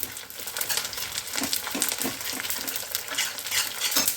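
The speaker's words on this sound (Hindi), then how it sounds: "जब आप गोंद को इस तरह से पाउडर बना के फ्राई करते हैं" Powdered edible gum (gond) frying in ghee, a continuous crackling sizzle mixed with the scrape and clink of stirring in the pan, close and steady.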